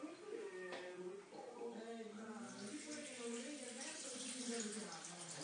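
Water from a filter pours in a steady, soft trickle onto oranges in a container, faint and close, while someone speaks over the splashing.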